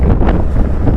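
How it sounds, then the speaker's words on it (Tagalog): Strong wind buffets the microphone on a high zigzag mountain road between Dalaguete and Badian in Cebu, a loud continuous low roar with gusty rises throughout the short moment. "Ang lakas ng hangin."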